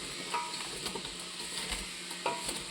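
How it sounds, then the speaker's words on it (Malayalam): Bare hands rub and squish jackfruit seed masala with salt in a bowl, giving soft, close, wet squelches and scraping pulses at an irregular rhythm, fairly quiet against faint background noise. "ഇത് നമുക്ക് കൈകൊണ്ട് തന്നെ ഒന്ന് തിരുമ്മി യോജിപ്പിക്കാം കേട്ടോ."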